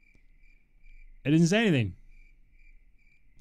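Crickets chirp in a video game in a soft, regular pulsing pattern, interrupted by a short stretch of nearby speech before the quiet chirping resumes.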